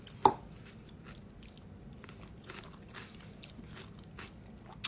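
Crunchy bites into a big fresh salad, with a sharp crisp bite at the start and another at the end, and quiet chewing in between, close up.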